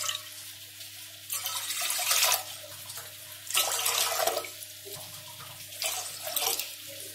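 Water pours into a cooking pot in three separate bursts, each a loud splashing rush lasting about a second, with a low steady hum between them.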